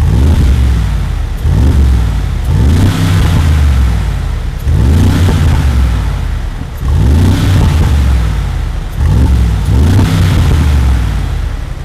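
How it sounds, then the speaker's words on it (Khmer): Loud, close exhaust roar from a 2022 Mercedes-AMG G63 revving hard in repeated bursts about every two seconds, each surging up and dropping back, with no one speaking. "សម្លេងដែលស្រែកចេញពីសម្ងាត់នេះគឺអំណាចមែនតើ"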